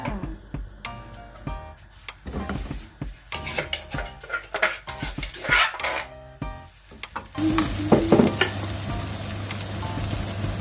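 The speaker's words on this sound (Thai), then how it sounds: "ยอดโฮของเราพร้อมผัดนะคะ เดี๋ยวเรามาเริ่มกันเลย" Hop shoots being stir-fried in oyster sauce, with clanking metal utensils and scraping against the pan over a running sizzle that swells louder and hisses steadily in the final seconds, close and without talk.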